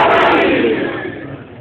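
A large crowd roars back the Nara-e-Haideri slogan in one loud, sustained shout that swells at once and slowly fades.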